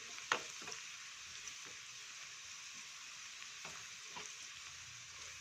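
Garlic sizzling briefly in a pan with coriander, a quiet steady hiss with a few soft clatters of stirring, no talk.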